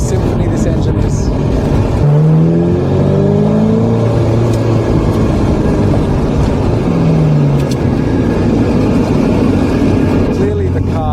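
A Ferrari 348 engine revs and accelerates loudly and close by, with rising and falling harmonic sweeps around two and seven seconds over continuous engine roar.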